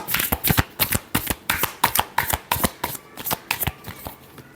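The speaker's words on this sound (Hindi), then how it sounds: "last shuffle" Tarot cards being shuffled up close in a rapid run of crisp riffling bursts, repeated rhythmically over several seconds with no talking.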